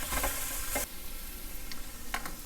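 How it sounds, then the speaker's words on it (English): Onions and mushrooms for beef stroganoff sizzling loudly in a hot pan, a bright hiss with a few scraping stirs early on, then a steadier frying crackle with light utensil taps. "at this stage we'll add the onion and the mushrooms"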